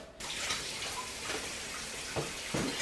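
Water running from a kitchen tap while bagels are being made, a steady broadband rush that carries on throughout, with a few brief clinks or splashes near the end.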